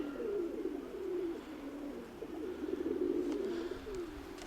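Pigeons coo in soft, repeated throaty phrases close by, with faint background ambience and no talk.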